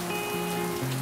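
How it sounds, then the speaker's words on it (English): Steady rain falls outdoors at Lake Tahoe in nasty weather, a continuous dense hiss of drops on surfaces, with a low tonal hum running underneath. "Raining."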